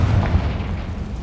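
Confringo blasting spell in the Hogwarts Legacy game hits as a brief, dense low boom with a rumbling tail, steady and fairly loud throughout, no voices.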